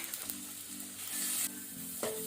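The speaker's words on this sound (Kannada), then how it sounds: "ಇದನ್ನೀಗ ನಾವು ಮೀಡಿಯಂ ಫ್ಲೇಮಲ್ಲಿ ಆನಿಯನನ್ನು ಫ್ರೈ ಮಾಡಿಕೊಳ್ಳುವ" Onions fry in a pan over a medium flame as the base for a crab curry, giving a steady close sizzle with a few stirring clinks over a low background hum.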